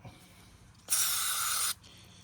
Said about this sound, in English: spray the bowl out, get the gunk out